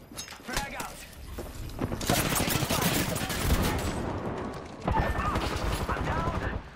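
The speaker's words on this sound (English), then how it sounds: "They're firing on me." Gunfire in the video game Apex Legends, sustained rattling bursts of automatic weapons fire with sharp shots and mechanical clatter, loud and continuous, with game voice lines spoken over it.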